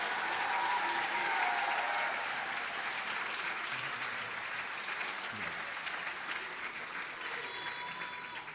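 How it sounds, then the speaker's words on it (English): A large audience applauds continuously at an annual awards ceremony, a dense, sustained wash of clapping for the MVPs leaving the stage, slowly tapering off with faint voices underneath. "how about one more big round of applause for all of our"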